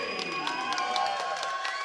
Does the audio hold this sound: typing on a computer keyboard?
no